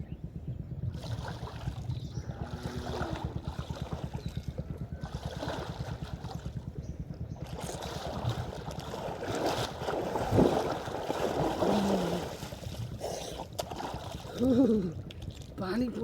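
Water sloshes and splashes in a canal as someone bathes in cold, fresh water, a steady close splashing with heavier bursts toward the end, with no one talking.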